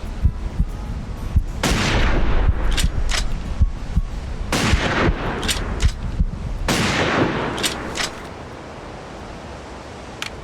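Rifle shots in a hunting simulator game, several sharp loud reports at irregular intervals, each followed by a rolling decay over steady outdoor ambience.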